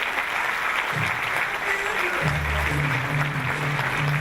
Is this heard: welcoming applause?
yes